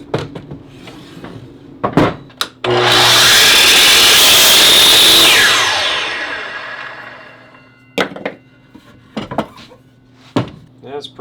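A miter saw cuts angled wooden pieces for a workout weight plate rack, with one long, loud whining cut that spins down slowly, framed by sharp clunks and knocks of wood being handled before and after.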